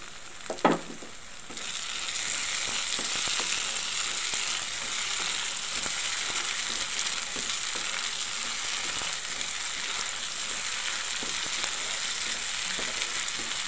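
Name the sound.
ingredients frying in a pan for drumstick cashew curry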